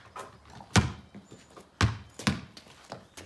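Children dribbling and shooting basketballs in a kindergarten-to-second-grade class, heard as a few sharp, hollow bounces spaced irregularly, fairly close with some room echo.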